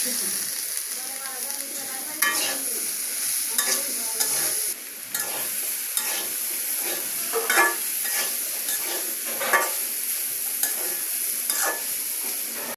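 Peas sizzling in a hot pan of mixed vegetables as they are stirred, a steady loud frying hiss with repeated scraping stirs, close by, with brief talk.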